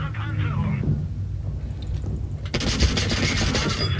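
Tank cannon fire in World of Tanks Blitz: an engine rumble gives way to a sharp, loud blast with a ringing tail, and a voice talks over the game sounds.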